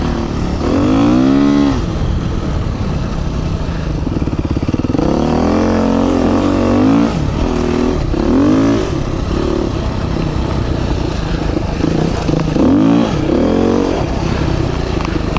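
A Beta 390 dual-sport motorcycle fitted with a Rekluse clutch is ridden on a station track in the Flinders Ranges, its engine droning steadily up close with repeated rises and falls in revs.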